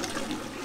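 A toilet flush in the video game 12 Minutes, a short burst of rushing, gurgling water heard on its own.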